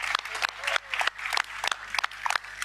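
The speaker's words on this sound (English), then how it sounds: "let's give it up for the young leaders in the room." An audience in a room applauding young leaders, a patchy burst of clapping with uneven rhythm and moderate loudness, mixed with some voices.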